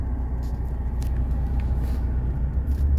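A 1991 Mercedes 300SE on a test drive, a low steady engine and road rumble from inside the cabin, continuous and even with no voices.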